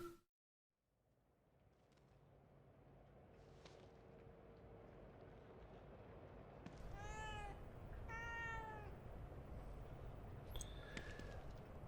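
A cat in The Evil Within 2 gives two drawn-out meows in the second half, rising over a low ambient rumble that starts after a brief silence.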